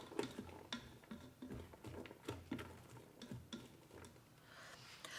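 Beans being stirred in a Ninja Foodi pot, giving soft, irregular scraping taps and patters from the spoon, close but fairly quiet, with no voices.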